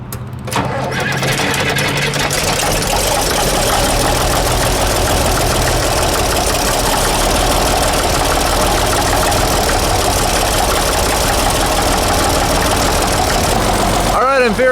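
A Case 401 six-cylinder diesel tractor engine cranks and catches after an oil change, then settles into a loud, steady, knocking idle close by for the rest of the clip before a brief shift at the end.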